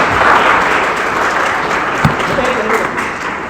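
Audience at a Pakistan Day quiz contest in Karachi gives the school children a steady, loud round of clapping, continuous across the whole stretch with one brief sharper knock midway.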